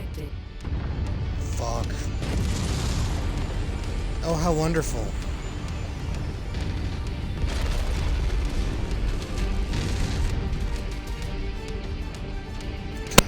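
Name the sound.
ammo explosion of a destroyed target in MechWarrior 5 video game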